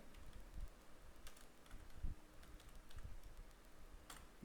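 Soft, faint keyboard typing while words are entered into an online form, with scattered light keystroke clicks over a low background hum, no voice.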